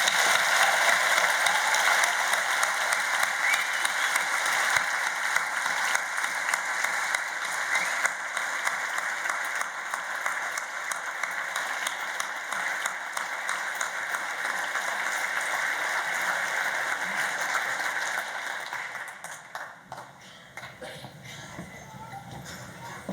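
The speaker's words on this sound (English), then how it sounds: "let's start today's ceremony by giving our amazing graduates a huge round of applause." Audience applause for graduates at a Cardiff degree ceremony: sustained, even clapping from a large crowd that keeps going for about twenty seconds, then fades and dies away, leaving a quieter room.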